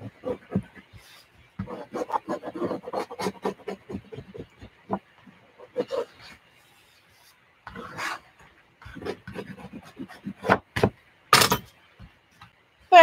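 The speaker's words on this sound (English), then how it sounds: "Burnish them down a little bit more." Paper pieces are burnished down onto a collage with quiet, close, repeated rubbing and rasping strokes that come in uneven clusters with gaps, ending in a few sharper taps.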